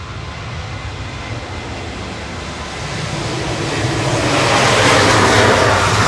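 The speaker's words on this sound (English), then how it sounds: "Ryanair to Berlin departing, flight 1145 GRU KG" A Ryanair Boeing 737-800 jet bound for Berlin departs Manchester Airport with a loud, continuous roar that swells and grows brighter over several seconds, with no voices.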